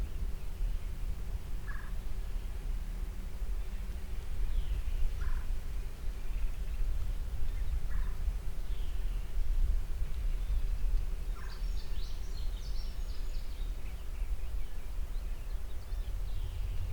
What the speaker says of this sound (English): See if we can either get eyes on a bird in a field or maybe strike up a gobble.